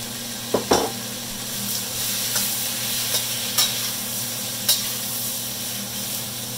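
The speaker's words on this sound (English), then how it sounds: "now we're going to add the rest of the meat right back in" Beef pieces sizzling in a hot pan as they are added back in for pepper steak, a steady close frying hiss punctuated by several clinks and stirring scrapes of the utensil.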